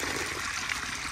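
Water from a lake trickles and splashes steadily at a campsite, a continuous close wash of liquid noise with no speech over it.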